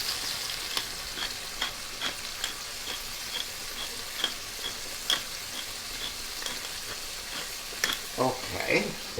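Shrimp seasoned with salt and black pepper fry in a pan, giving a quiet, steady sizzle dotted with soft pops and ticks that grow a little busier near the end.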